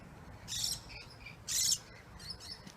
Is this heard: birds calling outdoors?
yes